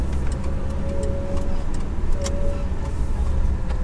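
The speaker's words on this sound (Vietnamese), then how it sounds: "Giờ ra khỏi trung tâm, đông xe," Dense city traffic in Melaka, Malaysia, forms a continuous low rumble of car and bus engines and road noise, fairly loud and close, with a couple of faint passing tones and no talk.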